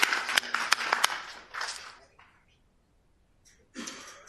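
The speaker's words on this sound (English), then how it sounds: "I think it merits a little bit of applause." A brief round of applause for a hospital emergency-department research group. It starts moderately loud with a few sharp claps and dies away within about two seconds, leaving near silence before a voice resumes.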